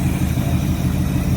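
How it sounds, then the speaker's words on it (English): A 1939 Chevy engine idling after an idle screw adjustment, a steady low rumble with even pulsing, close and continuous with no voices. "Seems to be idling better."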